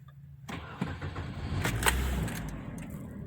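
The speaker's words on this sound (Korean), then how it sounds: "시동은 지금 일발 시동으로 부드럽게 걸리고 있죠" Kia New Carens engine cranks briefly and catches at once, settling into a smooth, steady idle that grows slightly louder and holds near the microphone.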